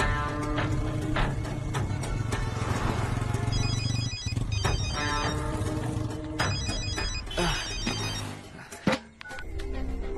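A telephone rings repeatedly in bursts over a noisy background, the electronic ringing pattern recurring several times before stopping.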